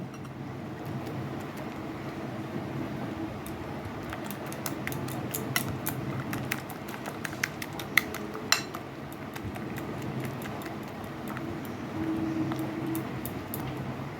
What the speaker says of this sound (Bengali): ফেটানো তো টক দই রয়েছে, সেটাকে দিয়ে আমি কি করব, একটু মিক্সড করে নেব।